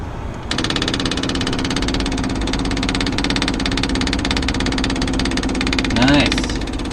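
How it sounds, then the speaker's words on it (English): A generator engine runs loudly and steadily at close range while an electric pump moves fuel, with a continuous mechanical drone and a brief rising whine near the end. "So let's just see if we can pump some fuel."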